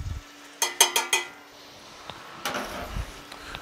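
Spoon knocking and scraping in a pot of Italian beef stew, four quick close clanks in a row, then quieter scrapes and a faint sizzle after a pause.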